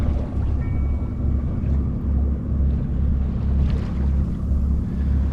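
A sailboat moves at about 3.5 knots in late-season wind off Mount Desert Island, Maine: a continuous rushing of wind over the microphone with low rumbling water and hull wash, steady and loud throughout.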